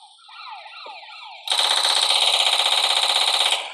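A police siren in the Life in Prison video game starts with a wailing tone, then cuts abruptly into a loud, rapid pulsing siren that runs steadily to the end.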